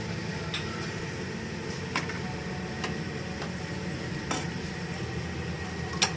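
Chicken karahi with sliced ginger being stirred in a pan, with scattered metallic clinks and taps of a utensil against the pan over a steady background hiss.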